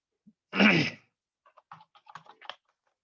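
Computer keyboard typing a journal entry in Tally ERP 9: a loud breathy burst comes first, then soft, scattered key taps in an uneven run.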